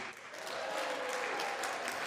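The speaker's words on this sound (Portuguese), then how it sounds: "foi aplaudido até por parlamentares do partido de oposição" Sustained applause from parliamentarians, opposition members included, greeting a president's remarks in a legislative chamber, a dense steady clapping that fills the space.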